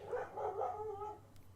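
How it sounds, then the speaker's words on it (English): A loud dog barks indoors in a few quick, close yips and woofs running together, then fades out, with no talking over it. "Do apologise for the loud dog."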